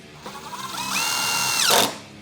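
A DeWALT DCF888 impact driver runs on its second speed, driving a 6-inch fastener: a rising motor whine builds into a steady high buzzing rattle for about a second, then stops. It is loud, close and alone.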